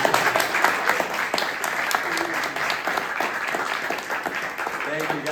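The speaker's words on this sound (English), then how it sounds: "shall we wrap it up and with a big round of applause?" Sustained applause from an audience at a book launch event, dense steady clapping throughout with a voice speaking over it toward the end.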